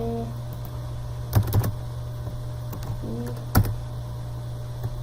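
Computer keyboard keys are pressed for a copy shortcut while formatting text: a few sharp, close clicks in small clusters over a constant electrical hum.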